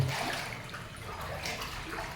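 Rushing water pours down a hillside toward a Shiva temple during a landslide, a continuous close wash of flowing water.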